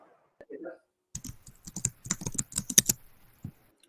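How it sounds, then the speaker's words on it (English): Someone types a command on a computer keyboard, a quick run of close, crisp key clicks after a brief murmur of voice. "Okay, just type git status."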